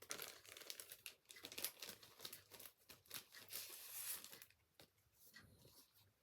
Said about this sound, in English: Let me get out the wrapper. Sorry if there's any crinkling.